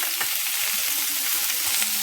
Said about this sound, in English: We're just going to saute some vegetables real fast.